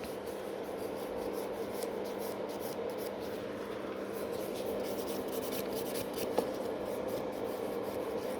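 Steady, even rasping of a nail file working across a gel-coated nail plate, continuous and close, with no talk over it.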